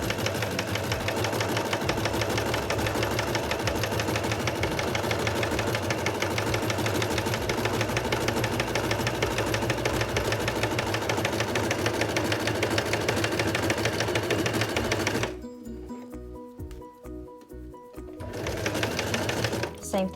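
A sewing machine runs steadily, stitching elastic onto a face mask made from an old Calvin Klein T-shirt, a continuous close whir that stops near the end with a few slow single stitches before resuming.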